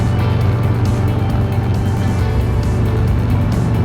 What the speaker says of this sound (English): I am barely giving it gas and we just blipped right up to 60 mile an hour.